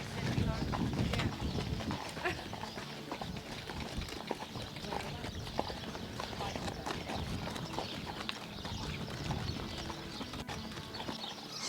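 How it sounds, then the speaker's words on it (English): Horse hooves clip-clopping steadily while riding a Portuguese stallion, a continuous close rhythmic beat with a person talking over it. "just being on a horse riding around this kind of place"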